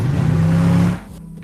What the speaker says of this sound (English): you hear the car entering on the right, and then you hear the sound balancing in to the center.